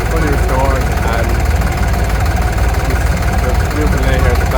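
A restored 1963 Super Nextra tractor with a 45 hp engine and a new cab runs at a ploughing show, giving a steady, loud rumbling drone mixed with outdoor noise and voices.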